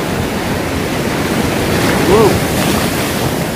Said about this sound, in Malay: Sangat besar ombak dia.